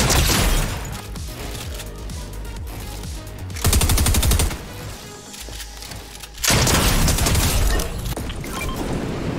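Rapid automatic gunfire in Fortnite rattles in two long, loud bursts separated by quieter stretches of scattered shots and game ambience, with no one talking.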